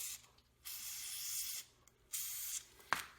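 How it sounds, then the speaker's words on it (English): Fluid Film lubricant hisses from an aerosol spray can onto a minivan's spare tire mechanism in two steady bursts of about a second each, followed by a brief sharp click. "I'm going to spray it with, not a sponsor, but some fluid film"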